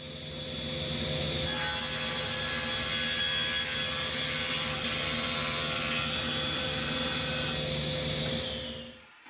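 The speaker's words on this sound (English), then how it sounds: "the bigger piece of this plywood will be ripped, as you can see me doing in this shot" A saw rips a sheet of plywood for a cabinet frame, one continuous loud whining cut lasting about six seconds, starting abruptly and stopping cleanly, with quieter motor hum before and after.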